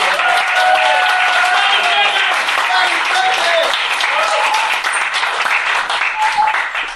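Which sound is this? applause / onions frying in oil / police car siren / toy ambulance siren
applause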